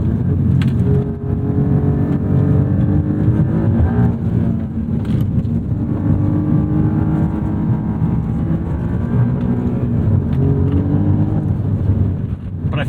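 A 2019 Alfa Romeo Giulia Quadrifoglio driving on a rough road, engine note rising and falling as it revs and shifts, with steady road and cabin noise throughout.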